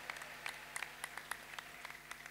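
A church congregation clapping, scattered rhythmic claps recurring over a low hum, fairly faint and somewhat distant, with no voices.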